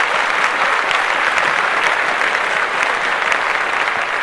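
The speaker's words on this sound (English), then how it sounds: "So clap that up for Freeway." Steady, loud audience applause for a performer named Freeway on a podcast show, dense clapping that holds evenly throughout with no voices over it.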